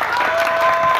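Congregation applauding during a Methodist church service installing a new catechist, a steady wash of clapping from many hands filling the whole second.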